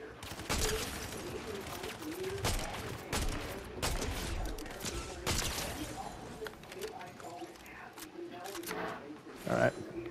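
Gunfire aimed at the player in a Fortnite match: scattered sharp shots and bursts crack over the steady game soundtrack, with a voice talking over them throughout.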